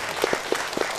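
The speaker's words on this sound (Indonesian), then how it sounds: "kita beri tepuk tangan sekali lagi" Applause from an audience at a Rembang community empowerment event, honoring the regent re-elected for a second term; a few scattered, fairly loud claps stand out over a steady crowd wash during a brief burst.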